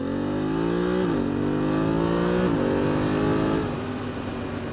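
Motorcycle with a quick shifter accelerating hard on a cold desert road, engine loud and close as it climbs in pitch and snaps through three rapid upshifts, each a brief dip before it pulls again.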